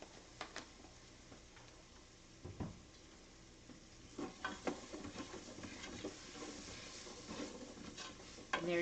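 Garlic, onion and celery cook in a pan, making a faint, steady sizzle scattered with quiet ticking pops and stirring clicks that grow busier toward the end.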